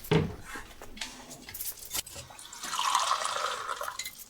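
Water poured into a glass in a domestic scene, a short liquid stream rising in pitch as it fills over a few seconds, with faint clinks and quiet room sounds before it.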